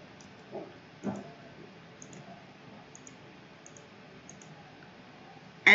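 A computer mouse clicks while a user works in CLO3D 3D garment software: a few faint, sparse clicks spread over several seconds in a quiet room, ending with a louder click.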